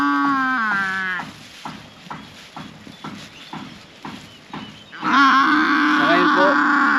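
A water buffalo (carabao) gives loud, drawn-out lowing calls, first at the start and again later, with irregular knocks and shuffling between them.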